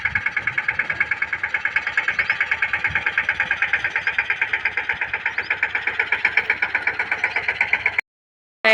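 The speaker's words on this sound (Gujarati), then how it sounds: "મમ્મી ટ્રેક્ટર લઈને આવે છે" A tractor engine chugs steadily nearby with an even, rapid rhythmic beat, loud and alone for about eight seconds before stopping abruptly, then briefly resuming at the very end.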